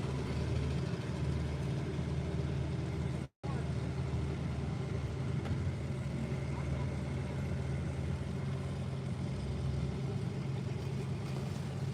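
An antique tractor engine runs steadily at a tractor pull, a continuous loud mid-range rumble with a brief cutout partway through, amid outdoor crowd noise and distant voices.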